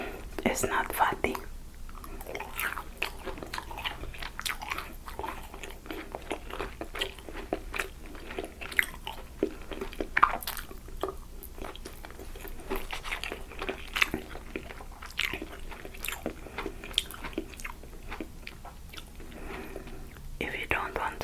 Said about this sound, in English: This is the first time I'm eating crunchy tofu that is not fatty.